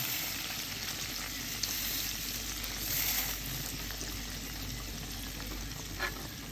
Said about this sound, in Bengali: এখন ঘিটা দিয়ে দিল বাগার দেওয়ার জন্য